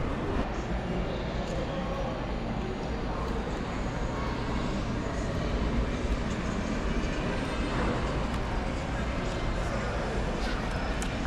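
Metro train ride with a continuous loud rumble and rattle of the car on the rails, steady throughout with no clear speech.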